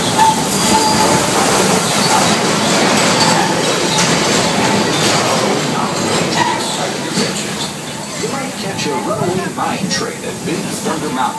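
The Big Thunder Mountain coaster train in Frontierland at Magic Kingdom rumbles and clatters along its track with wheel squeals, loud and close, with voices mixed in.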